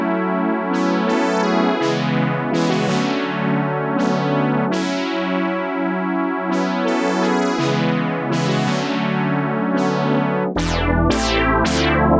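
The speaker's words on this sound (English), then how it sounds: "The next synth is called OBXD" The OBXD free synthesizer plugin plays a rich polyphonic patch, with sustained chords and bright harmonic swells repeating in a steady pattern, ending in a few punchy bass-heavy stabs. It sounds loud and clear, with no talk over it.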